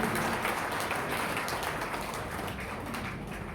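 Applause from an audience at a Hindi poetry recital, a kavi sammelan, fills the whole span as a steady, dense wash of clapping that holds at an even level and eases off slightly toward the end.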